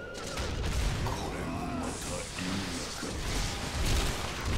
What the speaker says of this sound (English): Have a cannon.